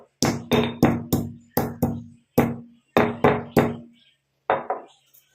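Almonds being lightly pounded with a pestle in a home kitchen, about a dozen sharp, close knocks in irregular bursts with brief ringing decays and silent gaps between.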